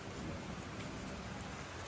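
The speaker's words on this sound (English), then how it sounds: "I think you can tell it's raining" Steady rain pours outdoors in the Philippines, a dense, constant hiss of drops hitting surfaces close by, with no voices and no break over the short stretch.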